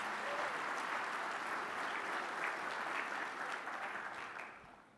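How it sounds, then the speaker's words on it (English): Dense, sustained audience applause fills a conference hall at a national workforce board forum, steady and full before thinning and fading toward the end. "one more round of applause for the NAWB Board of Directors"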